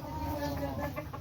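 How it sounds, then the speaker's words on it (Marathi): Native desi village hens clucking softly close by in a poultry shed, a steady low chatter of short clucks with no distinct crowing. "आपल्याकडे आता 60-70 कोंबड्यांचा वाण आहे. अस्सल प्युअर गावरान कोंबड्या आहेत"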